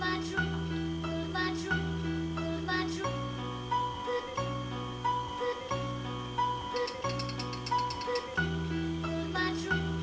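A short chopped music sample loops repeatedly, its sustained tones and plucked notes cutting off and restarting in a steady, rhythmic pattern, clear and upfront.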